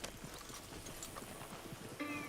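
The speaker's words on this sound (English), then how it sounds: "Load Anders onto the back of your horse there, and we'll take him to Sheriff Gray." Horse hooves clip-clopping in the video game Red Dead Redemption 2, a quiet rapid patter of hoofbeats under soft ambient game noise.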